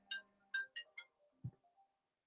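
A phone rings for an incoming call, a short melodic ringtone of four bright chirps followed by a low thump and a fading tone, quiet and alone.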